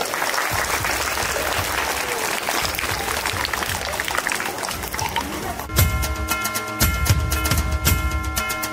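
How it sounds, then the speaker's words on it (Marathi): An audience claps loudly to welcome a guest onto a stage, starting as dense scattered applause. Partway through, amplified music with a steady beat joins in, and crowd noise mixes underneath. "सगळ्यांनी टाळ्या वाजवा"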